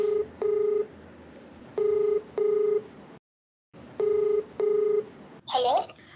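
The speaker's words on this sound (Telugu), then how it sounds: "నేను కాల్ చేస్తానండి." Telephone keypad tones as a number is dialed, six short bright beeps in pairs separated by pauses and a brief silence, followed by a faint electronic chirp at the end.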